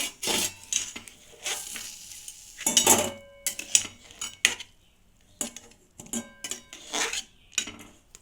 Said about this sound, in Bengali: জলটা থেকে এটা আমি ছেঁকে তুলে নিচ্ছি।